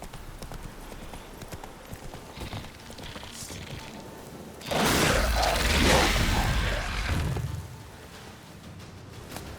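Clip-clop of a horse's hooves trotting in The Witcher 3 video game, a rhythmic run of hoof falls that swells loudly in the middle, with spoken words heard around it.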